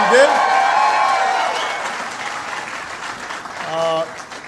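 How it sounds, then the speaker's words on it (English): An audience applauds at a presidential speech at Applied Materials, a broad wash of clapping that fades over a few seconds, with a speaker's voice heard over it at the start and again near the end. "give Nicole an outstanding round of applause for the great job"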